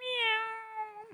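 A single cat gives one faint, drawn-out meow that slides downward and trails off at the end, heard alone in quiet surroundings.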